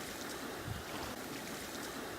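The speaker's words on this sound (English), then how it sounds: "There's the actual ocean." Steady broadband wash of ocean surf rolling onto a soft sand beach in Mexico, continuous and fairly close, with no voices.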